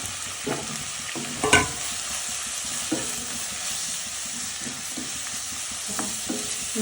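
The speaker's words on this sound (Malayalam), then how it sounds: "എണ്ണ ചൂടായി നമ്മൾ ചതച്ച ഉള്ളിയും മുളകും ഉപ്പും കൂടി ചേർത്ത് ഇട്ടു" Crushed onion, chili and salt fry in hot oil, a steady close sizzle and hiss with occasional stirring scrapes and clinks, no talking.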